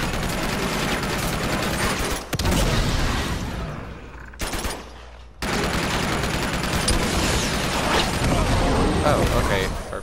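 Heavy continuous gunfire and blasts in the Uncharted 2 video game, dense loud volleys with a short break and a thumping impact, running nearly throughout.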